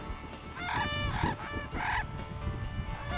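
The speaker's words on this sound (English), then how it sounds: "the brogger, an Australian crane in flight, makes a melodious call" An Australian crane, a brolga, calls in flight with a few loud, melodious honking notes in two or three bursts over steady background noise.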